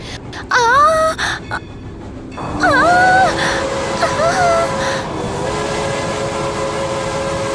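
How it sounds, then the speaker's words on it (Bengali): A train heard in a horror story scene: a loud low rumble of rolling wagons runs through, with rising and falling wailing horn-like tones sounding over it in short bursts, followed by a sustained steady tone. "ট্রেনের আওয়াজ পাচ্ছি।"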